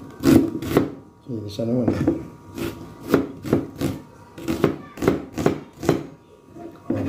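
A knife chops garlic and onion on a cutting board for a home-cooked beef-skin nilaga soup, sounding as a steady run of sharp, close, rhythmic chops with brief casual talk between strokes.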